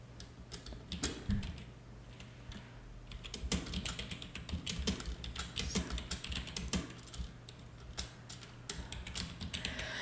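Rapid clicking of keys on a computer keyboard, steady bursts of typing with brief pauses, close and fairly quiet.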